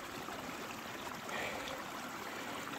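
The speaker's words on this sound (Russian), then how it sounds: "Здесь ручей набирает обороты." A mountain stream rushes and gurgles in a steady broadband wash of water, continuous and moderately close with no voices.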